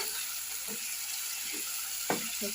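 Onion and tomato fry in a pan for fish curry, giving a steady, soft sizzle throughout, with a few faint scrapes and one sharp clink near the end. No one speaks.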